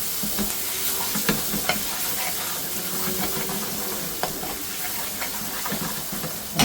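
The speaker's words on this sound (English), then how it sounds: "Next we're going to add tomato puree, some pre-cooked tomato masala, British Indian restaurant style. Give that a good stir." Tomato puree and pre-cooked tomato masala are stirred into a hot pan for a British Indian restaurant-style curry sauce, a steady close sizzle and hiss broken by scraping spoon strokes, with no talking.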